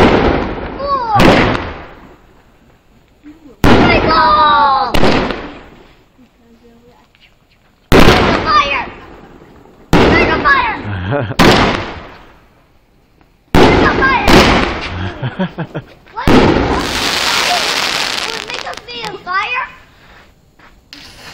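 New Year fireworks cake finale: a series of loud bursts and crackling shots in several bursts separated by short pauses, ending in a dense crackling volley, with children and adults talking in between.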